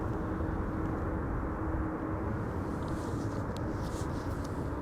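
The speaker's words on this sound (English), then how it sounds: "Tarom flight 361 arriving from Bucharest." A Tarom passenger jet, a 737-800 arriving from Bucharest, rumbles steadily at a distance with a broad low roar and faint hiss, no voices over it.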